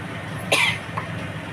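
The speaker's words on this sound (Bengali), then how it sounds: "বাবারে কাশি হচ্ছে কেন" A single sharp cough, with a small throat-clearing afterward, from a cook frying pointed gourd in a kadai, heard close over steady kitchen background noise.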